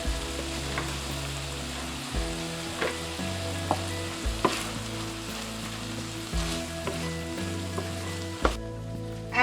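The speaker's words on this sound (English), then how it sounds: "After sauteing your garlic for just a few minutes" Minced garlic sautéing with browned sausage in a pan, a continuous close sizzle with regular scraping and clattering strokes of a utensil, no speech.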